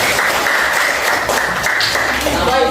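Dense, even applause from a seated audience for a presenting discussion group in a classroom or training session, loud and continuous, with faint voices mixed in beneath the clapping.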